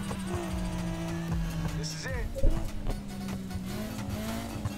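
A car in Need for Speed Heat drives and skids, its engine droning steadily while tires squeal through a brief slide in the middle, with a voice talking over it.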